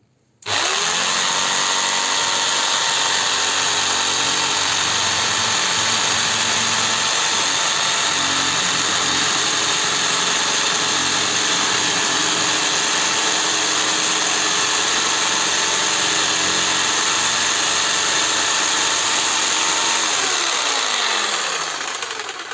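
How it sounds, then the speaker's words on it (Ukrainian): RONIX 4111 jigsaw cutting a slot in a workpiece, a loud continuous motor whine with steady buzzing that runs almost without change for over twenty seconds before winding down. "Зараз ми це так само попробуємо, поріжемо, зробимо проріз."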